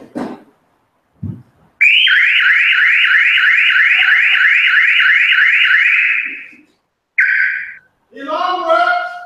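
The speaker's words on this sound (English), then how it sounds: "The alarm works!" A Mercedes 230 car alarm blares loud and close for about four seconds in a rapid rising, repeating whoop, followed by a short tone burst and a fluttering electronic warble, with brief thumps before it starts.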